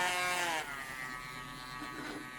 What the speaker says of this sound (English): normally with my Dremel, I turn it down 1 from the, I guess, standard setting